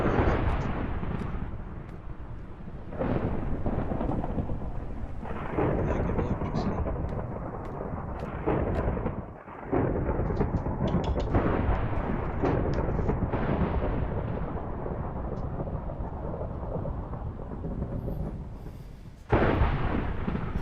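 Thunder and lightning in Minecraft striking a lightning rod: a continuous heavy rumbling roar with repeated booming cracks, loud and dense throughout, with possible voices mixed in under it.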